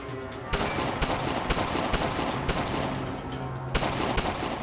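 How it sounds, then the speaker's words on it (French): A dramatized shootout: bursts of gunfire crack out in rapid, irregular shots, loud and sharp over a dense, noisy background with no talk. "Quelques secondes plus tard, la fusillade avait commencé."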